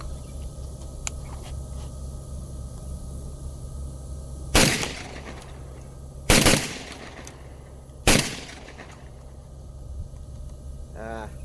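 Three loud shotgun blasts from a Beretta 1301 tactical shotgun, spaced about two seconds apart, each a sharp crack with a short decaying tail over steady outdoor background noise.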